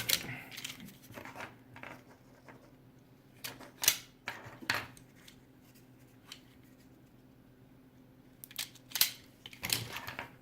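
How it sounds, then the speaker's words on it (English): Wires on a small DIY RGB Christmas tree solder kit being snipped and stripped, a scattering of sharp close clicks and snips separated by quiet pauses. "these wires are much too long, so I'm going to snip them off. And strip them."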